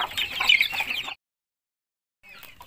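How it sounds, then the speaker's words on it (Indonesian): Brahma chickens on a poultry farm cluck in a busy run for about a second, then go silent, and the clucking returns more faintly near the end. "Yang parah tadi yang ayam Brahma"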